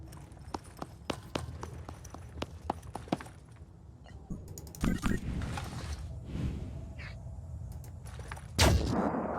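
Pistol fire in the turn-based tactics game Phoenix Point: Festering Skies, a series of sharp, closely spaced shots early on, followed by louder impact bursts over a low rumbling game backdrop.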